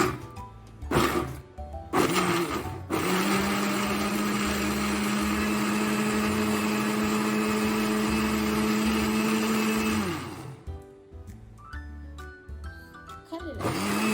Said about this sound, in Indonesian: Tutup, kita blender sedikit-sedikit.